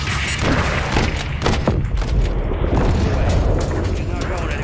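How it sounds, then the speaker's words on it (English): Missile blasts in Call of Duty: Modern Warfare 3 (2023) during a Danger Close mission, a dense continuous rumble of booming explosions and mechanical battle noise filling the whole stretch, loud and close. "Incoming missile."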